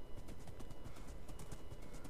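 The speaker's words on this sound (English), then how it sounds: "This horse, though, is pretty blazing fast." A horse gallops in Minecraft, its hooves clip-clopping in a fast, steady rhythm up close with no talking over it.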